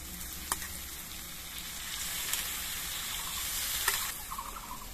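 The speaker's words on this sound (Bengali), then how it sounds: "এবার এর মধ্যে আমি ধুয়ে রাখা মুসুরি ডালগুলো দিয়ে দিচ্ছি।" Washed red lentils go into spiced vegetables frying in a pan, a quiet steady sizzle broken by a few sharp clinks and soft splashes as they are added.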